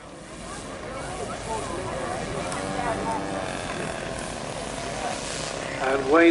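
Engine drone of a model Wellington aircraft landing at a model air show, a steady propeller hum with a rising pitch that swells louder near the end, heard over a constant outdoor background.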